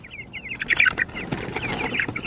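Young chicks in their new home cheep and cluck nearby, a busy run of high peeping calls with some soft rustling beneath.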